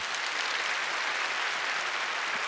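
A church congregation applauds to bless new members during a Sunday worship service, an even, continuous wash of clapping heard at a moderate distance from start to finish.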